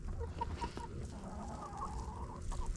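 Chickens clucking on an icy farm, steady soft clucks and short calls from a nearby flock over a low background rumble, with no voices.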